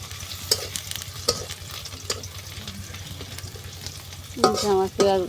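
Close-up frying and stirring of ingredients in a pan for egg bhuna, a steady sizzle with repeated scraping stirs, then a louder clattering scrape near the end.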